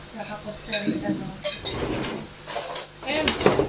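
Small bowl and teaspoon handled, giving scattered clinks and clatters of crockery and metal spoon, with a few brief voices talking nearby.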